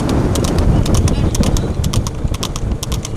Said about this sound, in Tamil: முதல் இரண்டு குதிரைகளுக்கும் கடுமையான போராட்டம்